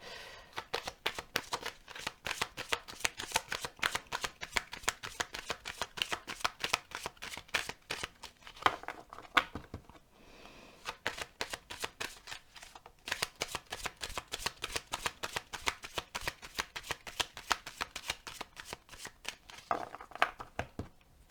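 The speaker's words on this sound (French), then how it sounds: "je vais procéder au tirage de la semaine avec l'oracle de la triade" Oracle cards being shuffled for a weekly draw: soft, close riffling and slapping of cards, continuous over twenty seconds with one short pause midway.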